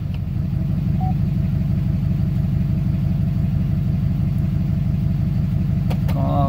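A vehicle with an Allison transmission being driven through its gears after a transmission flush, producing a steady low engine drone heard from inside, with no talk.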